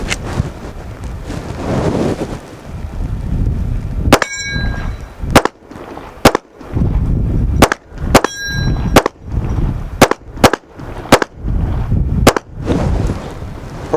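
A Ruger RXM pistol fires 115 grain Blazer brass from a Glock magazine outdoors, about ten sharp loud shots at uneven intervals, each a hard crack with metallic ring, over wind noise.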